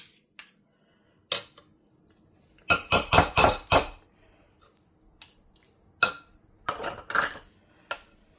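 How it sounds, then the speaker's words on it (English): Spoonfuls of peanut butter cheesecake batter dropped onto boxed brownies in a pan come as a series of sharp spoon-on-pan clinks and taps in short bursts, separated by near silence. "we're going to drop it on by the spoonful"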